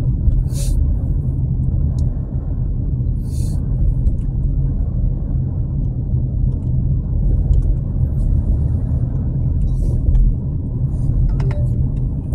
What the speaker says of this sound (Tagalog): Hindi talaga maiwasang mag-ipon-ipon dyan yung mga sasakyan kasi parang bottleneck siya eh.